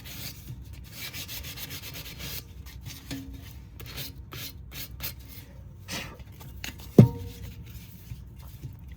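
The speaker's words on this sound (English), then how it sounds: "And I'm just gonna very gently do a little sanding." Light hand sanding on wood: soft, rhythmic rasping strokes repeat steadily at close range, with one sharper knock partway through.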